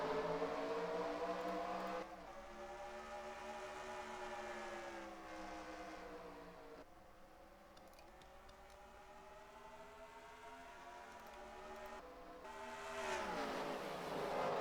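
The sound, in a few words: race cars starting the Target 400 race at Richmond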